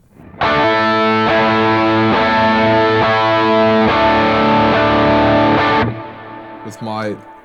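Electric guitar chords ring out loud and sustained through a natural reverb with a long decay and large room, then cut off and leave a shimmering tail with a few faint pick noises.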